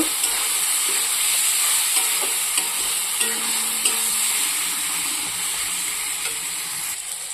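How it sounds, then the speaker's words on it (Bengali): Spice masala with ginger and garlic frying in a pan for an egg curry, a loud continuous sizzle with intermittent spatula scrapes and taps as it is stirred, no talking. "মশলাটা আমি সুন্দর করে ভেজে নেব"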